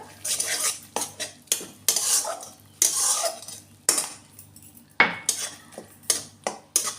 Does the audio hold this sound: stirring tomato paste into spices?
yes